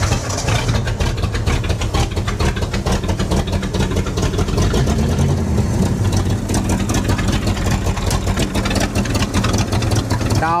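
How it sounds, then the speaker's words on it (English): Two engines, a Jeep and a Volkswagen Golf, idle after a jump start, making a loud, steady, rumbling drone that runs unbroken and close with only slight shifts in pitch. "Now we have the two vehicles running, the Jeep and the Golf."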